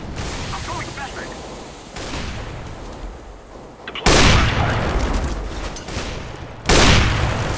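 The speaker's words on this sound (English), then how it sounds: "I'm throwing a flashbang." Flashbang grenades go off in CS:GO on the Mirage map, each a sharp, loud burst that trails off into a hiss. Two main blasts land a few seconds apart over busy gunfire and voices.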